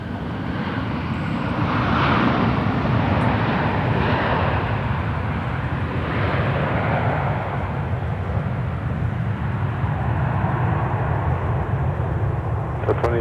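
Aircraft engine roar at the Minneapolis–St. Paul Airport runway, a steady, loud broadband rumble that swells and holds for the whole stretch, with no voices over it.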